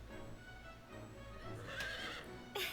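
A horse whinnies in the Fire Emblem Warriors: Three Hopes video game, a clear neigh rising over steady game background sound and hoof clip-clops, with a short burst near the end.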